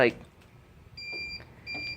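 Two steady electronic beeps from a metal detector pinpointer, each holding a single high tone for about half a second, over faint background noise with a soft voice murmuring briefly.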